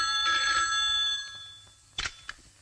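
A telephone bell rings in bursts in a quiet indoor room, with a long ringing stretch at first and two shorter clipped rings near the end.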